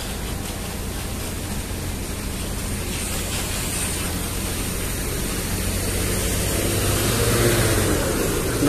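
Putra Pelangi bus at a bus terminal, a steady broad engine rumble and hiss holding near and fairly loud throughout, swelling slightly toward the end as if revving, with no talk.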